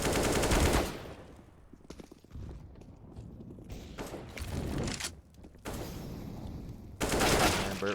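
Rifle fire in a Counter-Strike match on the Nuke map, with loud rapid bursts at the start and end and scattered shots and thuds in between, all at close range.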